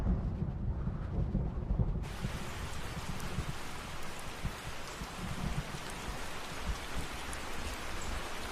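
Heavy summer rain pours down on a Cuban forest in the wet season, a dense, steady hiss that swells fuller after the first two seconds, with low rumbling that suggests distant thunder.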